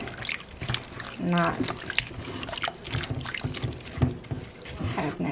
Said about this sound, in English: I put water in here, vinegar, a little bit of lemon juice, and you're going to clean it.